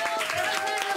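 A festival audience applauds a singer in a short, dense wash of clapping with a tonal sound running beneath it.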